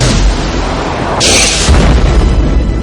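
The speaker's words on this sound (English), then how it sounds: "fire their missiles at the ship" Missiles striking a spaceship in a movie battle scene, a loud, dense explosive roar with a sharper burst in the middle and a deep rumbling tail, very close and overpowering.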